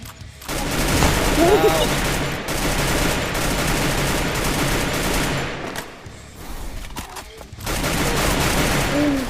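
Gunfire from the Free Fire battle game comes in dense, rapid bursts with brief lulls between them, loud and close, while players talk over it.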